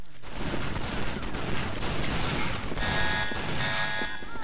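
Gunfire in a shooter video game cracks in a dense, steady barrage of shots, loud and close, with only faint voices beneath.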